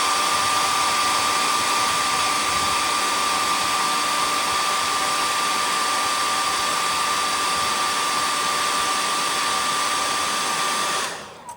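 A hair dryer blows steadily to dry white paint on a hand-carved cedar waxwing bird. It gives a loud, constant whir with no talking for about eleven seconds, then cuts off abruptly near the end.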